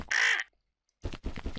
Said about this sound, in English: Always click on the crow.